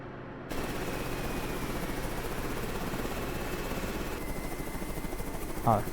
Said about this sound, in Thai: เราควบคุมเฮลิคอปเตอร์